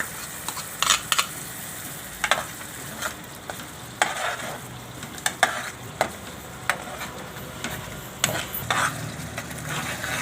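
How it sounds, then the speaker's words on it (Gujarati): Masala spices frying in oil for a cabbage-roll curry, with a steady sizzle broken by repeated sharp scrapes and clinks of a spoon stirring in the pan, close and fairly loud, without talking. "હવે આપણે આને ઘડીક તેલમાં સડવા દેવું, મસાલાને પાકવા દેવું."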